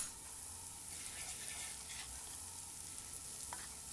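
Ground coriander, cumin and turmeric fry in a pan, giving a steady close sizzle and bubbling hiss with a brief clink near the end and no talk.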